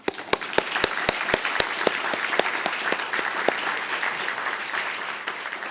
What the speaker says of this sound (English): I think that this deserves an applause.